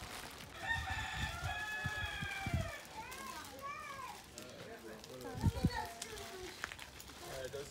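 Chickens call and cluck in harmonic, wavering bursts from a moderate distance, with scattered thumps and shuffling, while people talk over them in a Jamaican setting.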